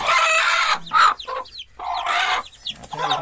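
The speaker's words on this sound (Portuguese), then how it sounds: "A galinha fica muito brava." A hen clucks loudly and agitatedly in a farmyard, guarding her newly hatched chicks with a rapid run of harsh, close clucks and squawks that fill the short moment without pause.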